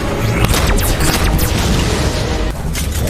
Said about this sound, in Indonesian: dia pun melepaskan misil